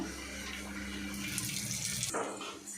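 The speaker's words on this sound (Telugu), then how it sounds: "ఇప్పుడైతే దీంట్లో ఐదు ఆరు పచ్చిమిర్చి కడిగేసి వేస్తున్నామండి" Tap water runs steadily over green chillies being washed in a kitchen, a close and continuous splashing that cuts off near the end.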